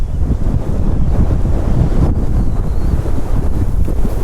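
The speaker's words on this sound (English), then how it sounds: "Hell's teeth, it's windy." Strong wind buffets the microphone on a woodland bike trail, a steady loud rumbling roar with gusty surges throughout and no talking.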